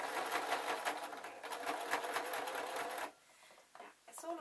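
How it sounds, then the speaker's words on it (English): A domestic sewing machine stitching thermal fabric for jester slippers runs in a steady, close, rapid whir for about three seconds, then stops, leaving faint handling noises. "I'm going to place it all underneath my sewing machine"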